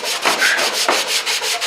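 Sanding block rubbing back and forth across a car body panel at 180 grit, a steady close scraping rasp in regular strokes with no talk.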